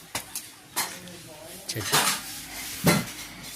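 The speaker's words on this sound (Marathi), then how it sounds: "हे ज्यांचं घर आहे ते आमच्या मामी भांडी घासतायत" Dishes and cutlery clatter in a series of sharp clinks and knocks, close by, as dishes are washed by hand in a Konkan village home, with a voice speaking intermittently.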